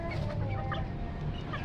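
Chickens cluck softly in a steady murmur of overlapping calls, a mixed village hen and local KT chicken close together over continuous background noise.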